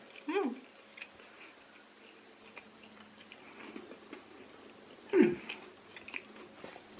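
A homemade VE Day biscuit being bitten and chewed up close, two crisp crunches several seconds apart with soft chewing between, in a quiet room without clear talk.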